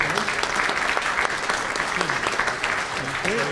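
Sustained applause from a conference audience for a panel, steady dense clapping throughout with faint voices and murmurs mixed in near the end.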